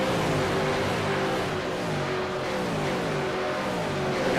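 V8 race cars in a racing video game, with a continuous loud engine roar and a steady droning pitch that shifts slightly as the cars run together at speed. No talking is heard.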